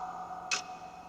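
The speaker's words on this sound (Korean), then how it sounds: "초침 소리가 바로 제 옆에서 나고 있었거든요" A single crisp tick from a clock's second hand, a close, short click standing alone over a steady low hum in a quiet room.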